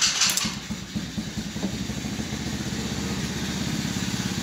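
A 2006 Kandi 110cc go-kart engine starts up and settles into a steady, pulsing idle, close and fairly loud, running alone without talk.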